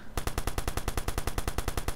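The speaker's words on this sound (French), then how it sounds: "Le fameux Thompson, 50 balles dans le chargeur" Thompson submachine gun with a 50-round magazine in the video game Watch Dogs, firing one sustained automatic burst of rapid, evenly spaced, loud shots.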